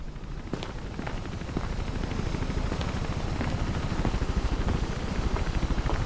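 Helicopter in the video game Mirror's Edge, a steady low rhythmic rotor chop that holds on its own and grows slightly louder over a few seconds.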